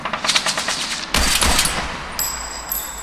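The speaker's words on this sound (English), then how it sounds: "Someone was shooting from the top of the electronics shop." Loud bursts of automatic gunfire crack from a sniper's window above an electronics shop in the Tesla Effect video game, rapid volleys rattling close by before ending in a thin, high electronic tone.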